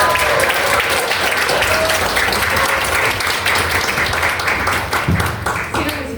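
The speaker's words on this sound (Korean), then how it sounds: "큰 박수로 모시겠습니다" An audience applauds to welcome a company CEO onto the stage at a motivational lecture for young people. The dense, steady clapping fills the hall throughout and tapers slightly near the end.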